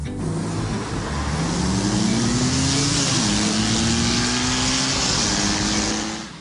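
Motorcycle engine on a two-wheeler test ride, a sustained close engine drone with clearly rising pitch sweeps as it accelerates and shifts, loud and continuous throughout.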